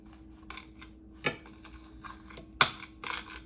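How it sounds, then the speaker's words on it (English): A serrated knife saws through a soft Krispy Kreme doughnut used as a burger bun, giving quiet scraping strokes with two sharper crunchy bursts near the middle and end, no talking. "I'm gonna go ahead and take a serrated knife and just cut it in half"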